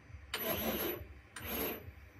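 A CNC milling machine's fourth-axis stepper motor turns in two short bursts of raspy, grinding whir with a brief pause between, heard close with no talk.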